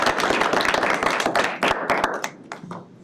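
Applause from an audience at a county board of health meeting, a dense burst of many hands clapping that stays loud for about two seconds and then thins out into scattered claps before fading.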